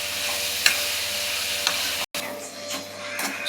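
Broad beans frying in oil with turmeric in a pan, a steady close sizzle with a few faint ticks and a brief cut partway through.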